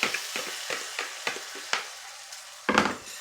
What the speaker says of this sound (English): I already got my skillet over here heating up with a little bit of butter